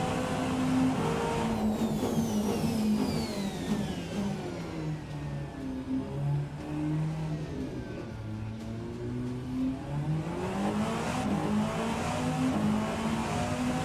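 A hypercar engine screaming around the Nordschleife in the racing game Rennsport, its pitch rising and falling through gear changes and corners, steady and close with no talking.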